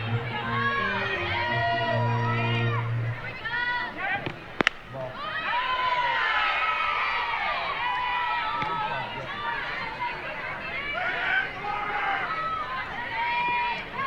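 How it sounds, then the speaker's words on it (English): College softball stadium crowd, Oklahoma State against Kansas, groaning and murmuring in disapproval, a swelling wash of many voices with a sharp crack partway through and announcer talk mixed in. "Crowd's not liking that one."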